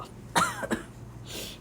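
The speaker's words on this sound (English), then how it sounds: "excuse me, I need to cough" A lecturer coughs twice in quick succession, sharp, close bursts in an otherwise quiet room, followed by a soft breathy exhale.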